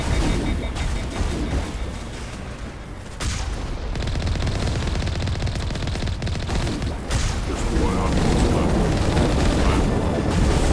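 Sustained gunfire and blasts during Mass Effect combat: a dense, loud wash of firing with a brief drop near the start, then continuous rumbling fire building slightly toward the end.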